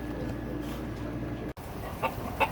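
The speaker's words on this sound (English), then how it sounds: "The chickens aren't too happy about that." Chickens cluck outdoors in the rain, a steady wash of rainfall under a few short, mid-close clucks near the end, with no talking.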